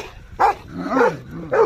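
Oscar the dog barks three times, loud and close, the short sharp barks spaced out with brief pauses between them and no voices over them.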